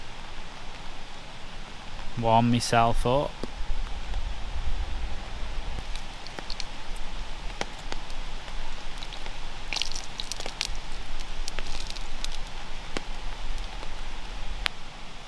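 Steady rain patters on a camping tarp beside a reservoir, a dense, even drumming that continues throughout, with someone speaking briefly early on.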